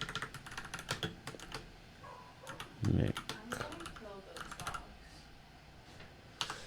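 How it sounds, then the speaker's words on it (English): Rapid clicking of keys on a computer keyboard, irregular bursts of typing heard up close at a desk, with a brief spoken word and a low thump partway through. "before I even make an attempt at typing it into a title."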